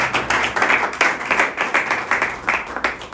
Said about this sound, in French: Est-ce qu'on peut vraiment acclamer?